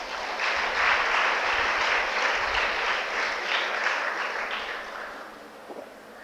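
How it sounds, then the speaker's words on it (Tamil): A crowd at a Tamil public speech breaks into applause for an audience member, a dense burst of clapping that swells early, holds for several seconds, then thins and fades out. "அவருக்கு எல்லாரும் கைத்தட்டுங்க."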